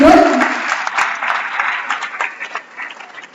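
An audience at a college English literary association valediction applauds in a steady wash of clapping, loud at first and easing slightly, with a voice briefly over the start.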